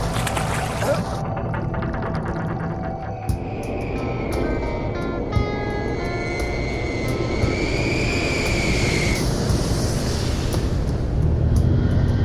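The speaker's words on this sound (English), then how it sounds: "the jet is falling out of the sky towards the ocean" Ethiopian Airlines Flight 961, a passenger jet, flying with a steady, continuous engine roar and broad rumble throughout, with a whining tone rising and falling in the middle before the noise swells near the end.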